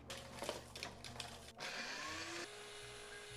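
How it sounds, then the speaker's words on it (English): A Ninja Foodi blender purees chiles, a motor whirring under brief starts and stops, then holding a steady high whine. "we're going to use our Foodie Ninja blender to blend our chiles"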